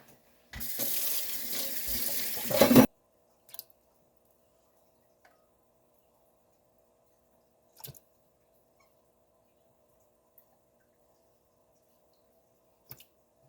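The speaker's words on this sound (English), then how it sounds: "And then I'm going to put it in some fresh water again." Tap water runs into a sink for about two seconds while aloe vera leaves are rinsed, a loud splashing gush that cuts off abruptly, followed by silence broken by a few faint clicks.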